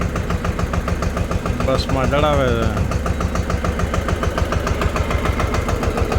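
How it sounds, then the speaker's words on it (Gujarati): A tractor with a trolley runs steadily nearby, its engine chugging in a loud, even rhythm throughout while someone talks over it. "ટ્રેક્ટર છે, ટ્રેક્ટરની ટ્રોલીમાંથી ઘઉંના બાચકા ભાઈ"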